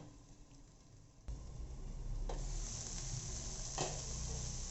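Stir-fried vegetables with cauliflower and salt hit a hot pan and break into a loud, continuous sizzle after a quiet start, with a few stirring scrapes.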